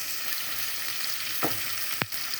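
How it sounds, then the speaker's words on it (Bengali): Chopped garlic dropped into hot oil for a Bengali fish and bean curry gives a steady low sizzle, with a brief louder crackle and a sharp clatter near the end. "পরিমাণ মতো তেল দিলাম, রসুন কুচিয়া রাখা রসুন আছে দিচ্ছি"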